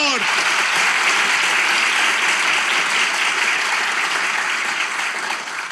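Dense, sustained audience applause in a television studio during a Turkish relationship quiz show, a loud continuous wash of many hands clapping that holds steady throughout and tapers slightly at the end.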